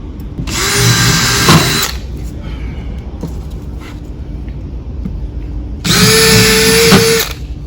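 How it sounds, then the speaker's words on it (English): A power drill bores holes for a porcelain pedestal installation in two loud, close bursts of about a second and a half each, separated by quieter background handling noise. "pre-drill the holes for that"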